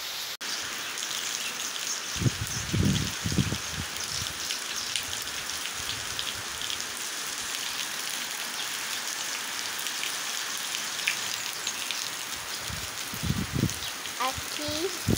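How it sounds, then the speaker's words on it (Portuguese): A constant downpour of heavy rain in Eunápolis, Bahia hisses evenly throughout, with a few muffled voices briefly heard beneath it. "Chuva boa, graças a Deus, hein?"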